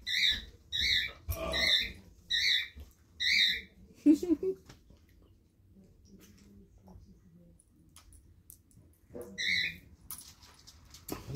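A pet bird gives a run of sharp, evenly spaced squawks close by, then falls quiet among soft household noises before squawking again near the end.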